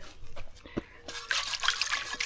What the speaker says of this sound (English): we get his food bowl, old water, a quick swish out